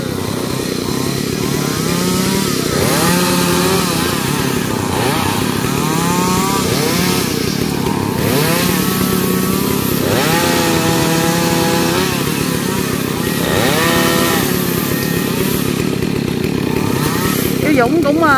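A chainsaw cutting down a large tree runs at a steady loud roar for the whole stretch, its pitch rising and dipping as the blade bites. Someone talks over it throughout.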